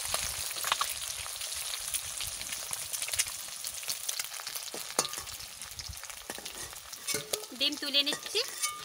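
Eggs frying in salted oil in a pan hiss and crackle steadily, with occasional scrapes and clinks of stirring that grow busier toward the end.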